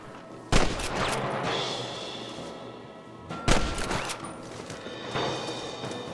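Gunfire in a Red Dead Redemption shootout: two sharp, loud shots about three seconds apart, each followed by a ringing tail over a steady, noisy battle backdrop.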